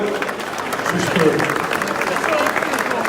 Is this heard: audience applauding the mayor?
yes